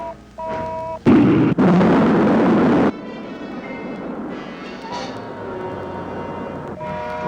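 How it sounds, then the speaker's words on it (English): A rocket's second stage fires with a loud, roaring burst that lasts about two seconds, then drops to a steady, lower rumble that carries on to the end. "Rocket 1, second stage. Fire."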